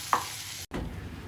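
Egg fries in a pan for egg podimas with a low steady sizzle and a quick scraping stir, broken by a short silent cut partway through.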